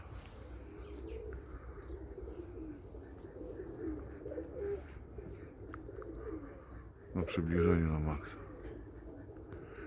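Pigeons on their eggs in a loft, a soft low cooing under quiet background noise, rising into a clearer, nearer coo near the end while someone talks briefly.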